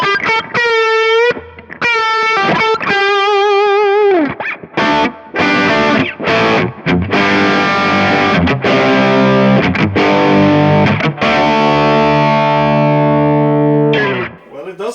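Electric guitar played through a Kemper profiler with an overdrive pedal, a thick distorted tone with sustained chords and ringing single notes, loud and close, with short pauses between phrases.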